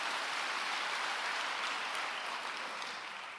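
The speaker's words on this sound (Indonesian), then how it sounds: "Yang percaya tepuk tangan bagi Allah kita." A church congregation claps together, a dense, steady wash of applause filling the room for the whole stretch and tapering slightly at the end, with no voices standing out.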